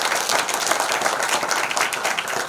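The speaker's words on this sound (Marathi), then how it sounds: "जरा टाळी वाजवा तुम्ही चांगली." Audience at a village kirtan in Chichewadi, Sangamner, claps in a sustained, even burst of applause that carries on steadily throughout, with no voices over it.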